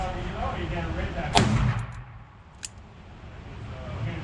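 A single sharp gunshot from a Taurus Tracker revolver chambered in 17 HMR, fired outdoors, loud and close with a short ringing decay, followed by a fainter distant crack.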